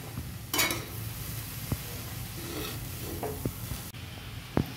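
Salted shredded cabbage is stirred in a pan for a Maharashtrian cabbage bhaji, with a spoon scraping and clinking a few times over a steady, close sizzle.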